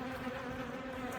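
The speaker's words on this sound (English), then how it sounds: "Whoa, that's a fair bit of bees." Bees buzzing during a hive cutout, a dense, steady droning hum from many insects close by, faint overall and continuous without talk.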